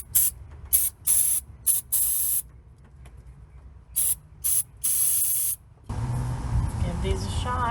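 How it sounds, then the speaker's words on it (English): Aerosol can of Freeze Off penetrant sprayed onto rusty exhaust manifold bolts of a C30 RV, a series of short sharp hissing bursts of varying length with pauses between, followed by rustling handling noise. "I'm gonna spray some good old freeze off on those bolts in hopes that it'll keep them from breaking"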